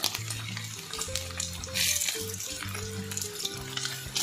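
Pork cracklings made from smoked pork cheeks and frozen lard fry in a pan, a close steady sizzle and crackle with brief bursts of louder spattering, while a low tonal hum runs underneath and no one speaks.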